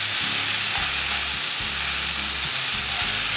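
Korean-style pork bulgogi with plenty of vegetables stir-frying in a pan, a loud continuous sizzle with a low repeating hum and regular stirring strokes, close up and with no voices.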